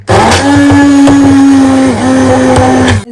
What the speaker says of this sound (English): let's blend our veggies